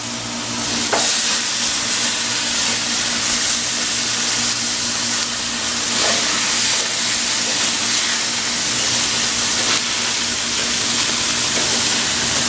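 Pork chops sizzle steadily on a gas grill, a loud continuous hiss and crackle close by, with a few faint clicks and taps scattered through it.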